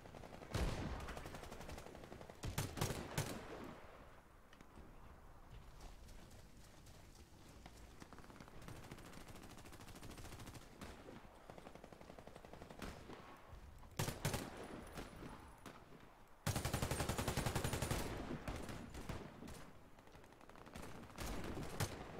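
Gunfire in the video game Warface, with scattered bursts of rapid shots, a long quieter stretch, then loud sustained automatic fire and further short bursts.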